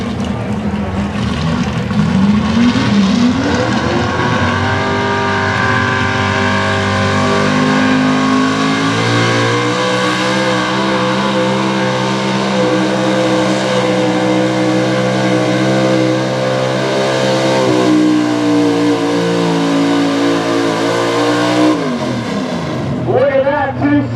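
A Chevrolet Pro Stock 4x4 truck engine roars continuously at high revs through a truck pull, loud and sustained, with the pitch climbing and shifting before cutting off near the end, under a commentator's voice.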